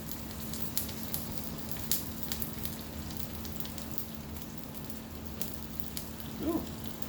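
Shrimp fry in butter for fried rice, giving a soft steady sizzle with occasional faint pops and a light clink, close but quiet, with no talking.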